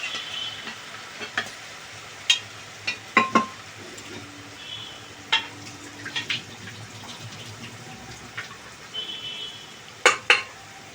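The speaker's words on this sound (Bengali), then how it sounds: "মটরশুঁটিগুলো ভাজা হয়ে গেছে হালকা এবার আলুটা দিয়ে দিচ্ছি সেদ্ধ করা" Boiled potatoes go into a pan of lightly fried peas, with a soft, continuous sizzle and a spoon clinking and scraping against the pan in scattered bursts while the food is stirred.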